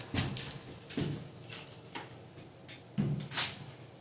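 Saw blade greased with white lithium grease cutting into a door to prep it for an Adams Rite lock, producing a series of sharp scraping strokes and knocks spaced about a second apart, fairly quiet.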